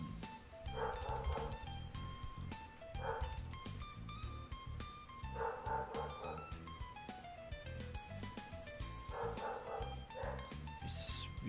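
A dog barks in repeated short bursts over a continuous bed of synthetic music or ambient game tones, moderately loud and fairly close.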